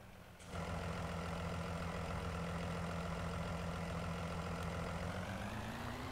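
A tractor engine in Farming Simulator starts up and idles steadily, a constant loud diesel rumble with a slight rise in pitch near the end.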